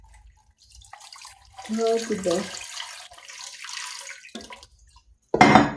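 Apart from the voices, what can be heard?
water poured into electric pressure cooker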